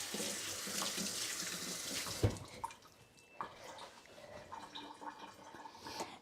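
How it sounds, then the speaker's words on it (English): Tap water runs steadily into a sink as hands are rinsed in a kitchen while muffins bake, a continuous close splashing stream with a few small knocks and clunks partway through. "So, I'm going to rinse my hands."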